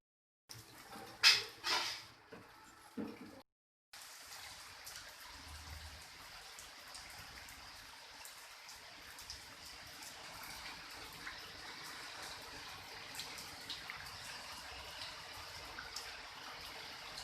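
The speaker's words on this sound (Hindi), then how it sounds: "बारिश हुई है, पानी पानी है।" Steady rain with rainwater running and trickling along the ground outdoors during a monsoon downpour, a continuous moderate wash after a few brief louder knocks near the start.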